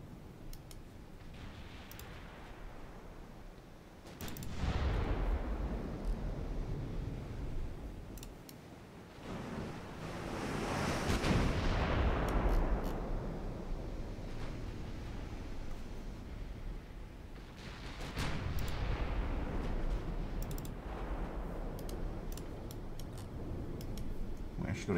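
Battleship main guns fire in the naval game Ultimate Admiral Dreadnoughts, with three heavy, rumbling salvos about seven seconds apart, each swelling and fading over a constant din of battle noise.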